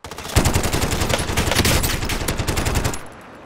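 Fast automatic gunfire in Call of Duty Warzone: one loud, continuous burst of rapid rounds lasting about three seconds, then an abrupt stop into quiet.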